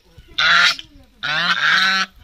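Geese or ducks on a farm let out two loud, nasal honks close by, each about half a second or longer, with a short quiet gap between them.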